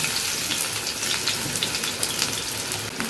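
Chopped onion sizzles and fries in hot oil in a pan with garlic that has already browned, a loud, continuous crackling hiss close to the microphone.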